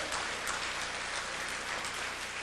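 Steady applause from a church congregation fills the whole clip, dense and even, with no voices standing out.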